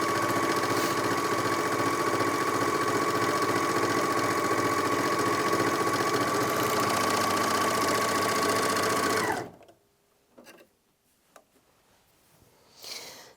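A Janome 9300DX overlocker sews stretchy fabric with its differential feed raised, running at a fast, steady mechanical whir for about nine seconds, then stopping, followed by faint handling noises.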